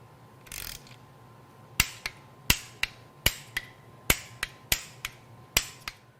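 A torque wrench tightening bolts to 17 foot-pounds on an early Porsche 996 engine, heard as a series of sharp, close metallic clicks at irregular intervals, about a dozen in all, in an otherwise quiet space.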